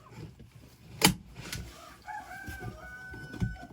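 A laying hen clucks and squawks while settling into a nest in a henhouse, with one sharp loud squawk and quieter murmuring clucks nearby, alone without talk.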